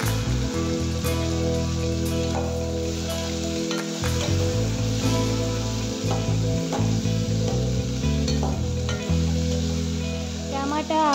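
Cut tomato and potato fry in a pan for a matar aloo curry, giving a loud, continuous sizzle with occasional stirring scrapes and no voice over it.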